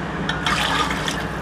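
Water poured over a layer of rice for home-cooked chicken dum biryani, a short splashing pour into the pot, close and moderately loud with no talk.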